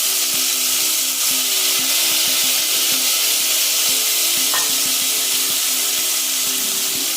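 Ground ginger-garlic paste sautés in a pan for a spicy crab gravy, giving a loud, continuous sizzle and hiss with a rapid series of stirring scrapes and taps throughout.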